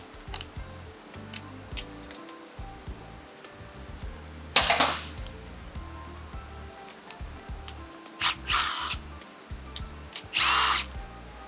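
Power drill or driver bursts on battery fasteners of an RX1E electric motorcycle during lithium-ion battery removal, with three short loud whirring runs spaced apart over quiet workshop background.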